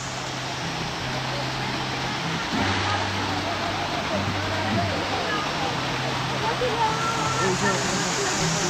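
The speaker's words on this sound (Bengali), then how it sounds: "একটা ঝর্ণার মতো আওয়াজ পাওয়া যাচ্ছে।" Water pours down like a small waterfall near a roadside, a steady broadband rush heard continuously while people talk over it.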